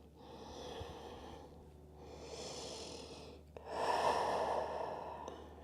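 Slow, deep belly breaths in a yoga flow of twists and binds, three long airy inhales and exhales in a row, close and fairly quiet, with no talking.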